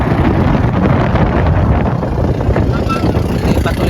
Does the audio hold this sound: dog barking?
no